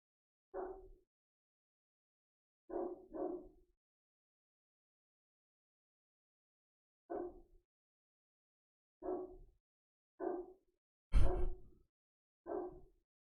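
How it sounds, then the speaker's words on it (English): A dog barks far off, eight short, faint barks spread irregularly across a quiet, still background, some coming in quick pairs. "A dog is barking in the distance"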